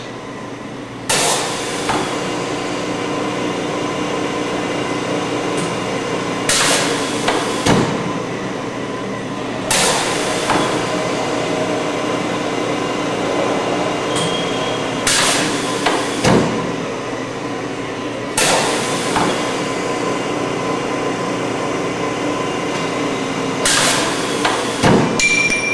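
A 1973 Nichols Duplex production twin mill runs a quick milling cycle, a steady mechanical hum broken by loud, sharp clanks and thumps every few seconds as the spindle and table feed engage and retract, close and alone.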